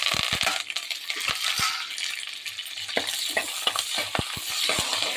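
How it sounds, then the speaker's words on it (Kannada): Mustard seeds, onion, curry leaves and green chillies fry in hot oil for a mixed vegetable palya, a bright continuous sizzle with popping seeds and sharp spoon clinks against the pan, close and busy. "ಎಣ್ಣೆ ಕಾದ್ಮೇಲೆ ಸಾಸಿವೆ ಹಾಕಿ ಈರುಳ್ಳಿ, ಕರಿಬೇವಿನ ಸೊಪ್ಪು, ಹಸಿಮೆಣಸಿನಕಾಯಿ ಹಾಕಿದ್ದೀನಿ."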